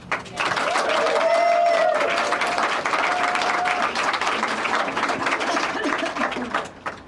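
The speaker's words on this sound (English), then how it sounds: "give a very big round of applause to Shadia and to Megan" A crowd at the closing of a peace conference gives sustained, steady applause for several seconds, with voices and cheers mixed into the clapping.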